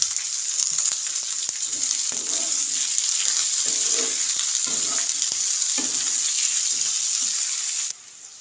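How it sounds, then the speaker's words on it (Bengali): Chopped onions sizzle steadily in hot oil with salt for a chicken curry, a continuous close frying hiss with occasional stirring scrapes, cutting off sharply near the end. "পেঁয়াজটা আমি নুন দিয়ে একটু ভেজে নেব"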